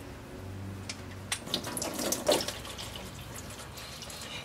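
Rear differential fluid from an Acura RL pours and trickles into a drain pan, a steady liquid splashing with a few brief drips and clinks, close by and alone.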